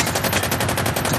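An M249 belt-fed machine gun fires a sustained, rapid burst of closely spaced shots, a loud continuous rattle with no pause or talk.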